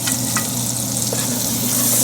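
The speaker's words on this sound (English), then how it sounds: "The residual heat of the oil will melt the butter. You can see it's still sizzling." Butter melting into hot oil left in a pan for Tuscan butter salmon, giving a steady, close, soft crackling sizzle that holds evenly throughout with no talking.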